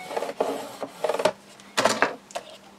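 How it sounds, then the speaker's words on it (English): Folded paper score line being burnished by hand in album construction: a few short dry rubbing strokes in bursts, close and moderately loud, separated by brief pauses. "Fold that over and just burnish that score line."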